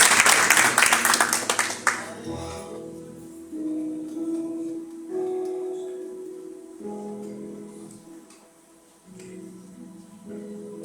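Church congregation clapping during a communion service, a loud burst of applause at the start that quickly fades into sustained music with voices.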